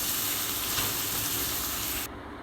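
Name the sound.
boiled potatoes frying in oil in a kadai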